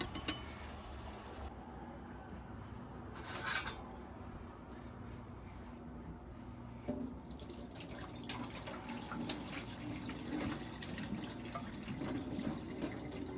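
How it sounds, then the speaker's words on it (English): Water streams steadily out of cooked ramen noodles being drained, a quiet, continuous splashing pour with small drips and gurgles and no voices. "So we're draining all the water out of the noodles there."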